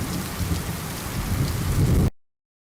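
Loud, steady downpour with rumbling thunder in a PSX puzzle game, a dense continuous wash that cuts off abruptly to silence near the end.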